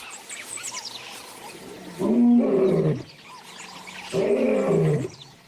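A male lion roars in the wild grassland, two deep, loud, drawn-out bursts about two seconds apart, close by and carrying strongly, with faint birdsong chirping in the background between them.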